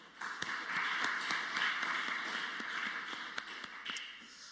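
A church congregation at a Wednesday worship service claps together in blessing, a faint, steady wash of many hands with scattered sharper claps standing out, continuing evenly for several seconds without any voices.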